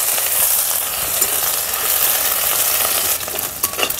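Crushed green chilli and garlic fry in hot oil in a village kitchen, giving a steady, close, dense sizzle with faint stirring clicks near the end; no voices.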